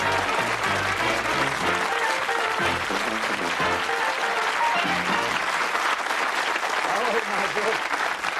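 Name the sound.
studio audience applause on Bullseye game show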